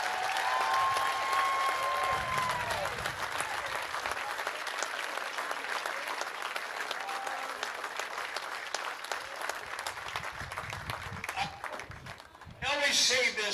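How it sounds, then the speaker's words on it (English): Spectators at a state baseball tournament applaud two teams with a long, steady round of crowd clapping and a few whistles. An announcer's voice is heard at the start and again near the end. "let's have a nice round of applause for 2 excellent baseball teams."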